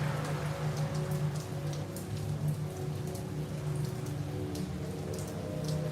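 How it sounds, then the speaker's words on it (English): Light rain falls steadily, a soft, even patter of drops on surfaces with a faint background hum and no voices. "especially when it's a nice light rain"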